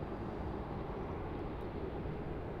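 Jetstar Boeing 787-8 arriving on runway 34 left at Sydney Airport, a faint, distant, steady engine rumble with no other sounds.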